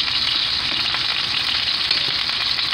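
Onions and peppers frying in a pan, a steady close sizzle and crackle with a faint stir underneath, continuous and fairly loud with no talking.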